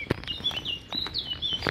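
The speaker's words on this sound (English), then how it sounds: "And beautiful songs of birds." A magpie and other birds chirp outdoors on a sunny summer morning walk, with quick high calls in a short, lively burst that sounds fairly close.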